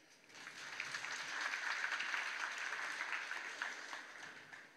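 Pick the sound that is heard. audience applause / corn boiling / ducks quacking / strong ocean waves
audience applause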